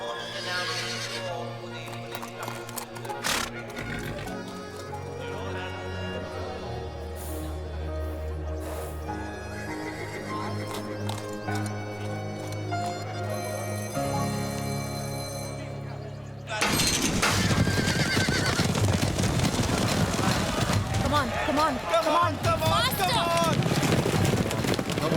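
Horses at a race gallop and whinny under a dense wash of music and crowd noise, the sound swelling abruptly louder and busier partway through as the race builds, with voices mixed in.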